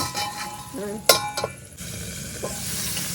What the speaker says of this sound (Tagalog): Ayan, napiprito na yung longganisa.